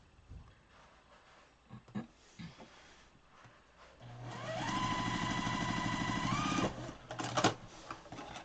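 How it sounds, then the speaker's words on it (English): A sewing machine stitches quilt pieces together in a steady fast run of needle strokes for about three seconds, coming in after quiet handling sounds and small clicks, with no talk over it. "And then sew that to that side."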